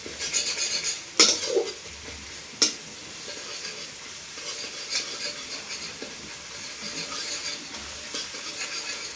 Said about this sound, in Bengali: এবার আমি দেখুন পেঁয়াজটা ভাজা ভাজা হালকা হচ্ছে